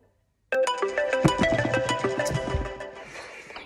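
A phone plays a bright, melodic ringtone while an outgoing call connects, starting abruptly after silence and continuing loud and close for several seconds before fading slightly.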